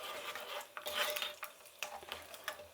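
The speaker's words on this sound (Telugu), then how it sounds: "ఇప్పుడు బాగా కలుపుకుందాము." Oil tempering with mustard seeds, cumin, chana dal and peanuts is stirred in a pan, giving a steady scraping rattle with faint sizzle underneath and a few sharper clinks of the spoon against metal, close and fairly quiet.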